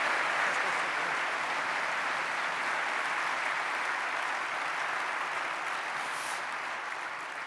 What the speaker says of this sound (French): vous pouvez encore l'applaudir